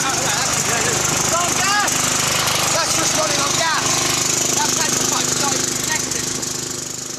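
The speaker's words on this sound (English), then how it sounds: "The lawnmower runs on methane" A petrol lawn mower engine converted to run on methane gas chugs steadily and loudly, with people's voices faintly mixed into the continuous engine roar.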